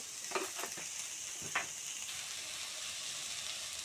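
Ginger garlic paste sizzles in a hot pan in a steady, close frying hiss, with a few sharp stirring scrapes early on and no one talking.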